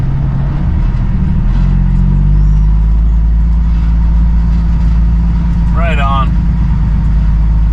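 A truck engine rumbles steadily at close range while the rig turns around and reverses into a parking space, with a short spoken remark partway through.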